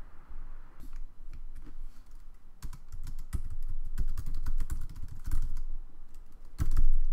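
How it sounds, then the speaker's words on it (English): Typing on a computer keyboard, a brisk run of clicky keystrokes close by, irregular in rhythm with short bursts and pauses, alone without talk. "So now I'm typing up a description of the image"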